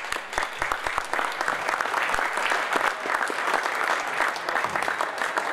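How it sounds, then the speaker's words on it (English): A small group of basketball players at a coaching clinic clap together, a steady patter of hands sustained for several seconds with scattered sharper claps near the listener. "Give me a clap."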